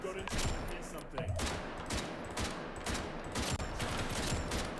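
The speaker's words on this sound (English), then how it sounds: "Multiple gunshots heard." Rapid bursts of gunfire in the video game BRM5, several overlapping shots in quick succession at moderate loudness.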